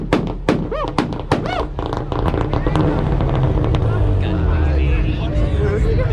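A car on two-step launch control at a competition fires rapid, loud exhaust pops and bangs, then holds a sustained, throbbing rev. It is very close, with excited shouting voices over it.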